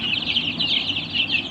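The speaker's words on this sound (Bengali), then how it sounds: "দেশি মুরগির বাচ্চা। এদের বয়স হচ্ছে 10 থেকে 12 দিন।" Native chicken chicks about ten to twelve days old cheep continuously in a brooder, a dense chorus of high, overlapping peeps close by with no voices.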